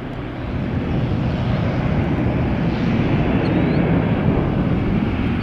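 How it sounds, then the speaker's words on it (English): An Airbus airliner roars past close by at sunrise, giving a broad, steady rumble of jet engine noise with a slight wind-like hiss. It stays loud and even throughout, with no voices. "Look how fast, but that's also again an Airbus"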